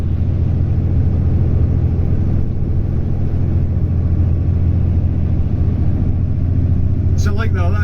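A Volvo FH 540 truck with a dual-clutch gearbox pulling uphill in seventh gear, its low, steady engine drone loud throughout while someone talks over it.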